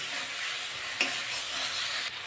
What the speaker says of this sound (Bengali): মশলাটা ভালো করে কষা হয়ে গেছে, তেল ছেড়ে গেছে। এবার আমি মাংসটা দিয়ে দেবো।